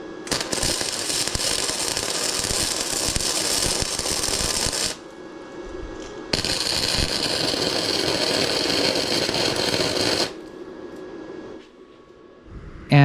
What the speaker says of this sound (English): and then we tack weld it